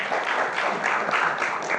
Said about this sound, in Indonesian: tepuk tangan untuk Bang Budiman